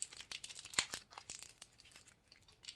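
Cellophane candy wrapper crinkles and crackles as it is folded over a taped seam for a Valentine's candy bouquet, with quick, close bursts of crisp rustling throughout.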